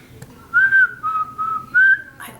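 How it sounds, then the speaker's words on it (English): A person whistles a short melodic tune alone, in four or five clear, sustained notes with brief gaps, close and fairly loud. "Can you whistle?"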